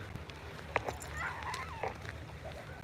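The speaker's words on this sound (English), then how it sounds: "This here is a beach dog." A dog on a sunny Australian beach lined with Norfolk pines gives a few short, faint barks and yips amid steady outdoor wind and background noise.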